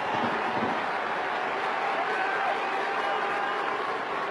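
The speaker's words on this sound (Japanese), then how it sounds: "大きな拍手をお送りください。" Steady, even applause from a baseball stadium crowd during a post-game hero interview, a continuous wash of clapping with no break.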